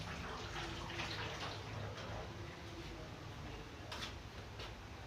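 Water from boiled potatoes pours out as they are drained in a home kitchen, a steady, fairly quiet broadband rush and splash that runs throughout with a few brief clatters.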